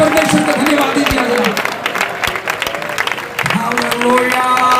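A church congregation at an evening convention gathering clapping in applause, a dense steady patter under loud amplified speech and voices that carry on throughout.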